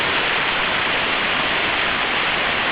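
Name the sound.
running water at Victoria Creek cascades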